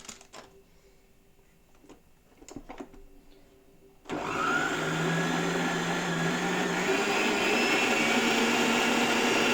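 A loud electric mixer beating cake batter whirs steadily after a few quiet clicks and knocks, its motor drone running continuously to the end.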